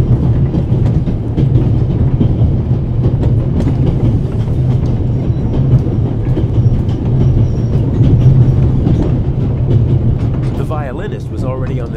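A train rolls along the rails near Zurich with a loud, continuous low rumble and steady clatter throughout, while voices talk over it.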